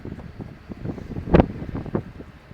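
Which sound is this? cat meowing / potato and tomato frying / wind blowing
wind blowing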